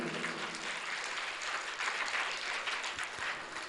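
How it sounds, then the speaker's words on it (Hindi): A seated audience at a Jain religious discourse claps for their mothers, a dense, sustained wash of applause at moderate distance, steady throughout without a clear voice on top. "तालियां बजाओ अपनी अपनी मम्मी के लिए।"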